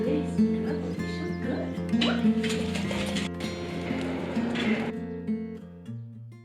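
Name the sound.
dog barking during a walk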